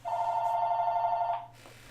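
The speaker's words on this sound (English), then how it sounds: "Phone call coming in." Telephone ringing with an incoming call: a single loud electronic ring tone holds steady for over a second, then stops, leaving a quiet room hum.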